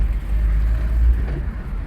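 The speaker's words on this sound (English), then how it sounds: "So now I'm slowing down, clutch in. I need to drop the gears." A car engine drops from fifth straight to second gear with the clutch in while slowing, a steady low rumble with wind and road noise, no clear rev blip, continuous for about two seconds.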